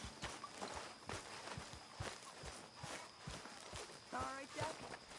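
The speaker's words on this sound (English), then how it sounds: "Arthur, you know you're not supposed to have that horse in camp." Horse hooves clip-clop steadily in a video game camp, an even walking rhythm of sharp close hoofbeats while someone talks over them.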